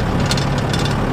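A 1973 Mercedes-Benz Unimog 406 diesel engine pulls away in third gear, a loud close rumbling drone with heavy vibration and low knocking pulses throughout a short burst.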